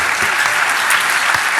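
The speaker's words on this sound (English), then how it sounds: "please give a big round of applause to all of those people that helped bring all those to you" A large conference audience at a hacking convention's closing ceremony applauds steadily, a dense, continuous wash of clapping that fills the hall at full volume from start to finish.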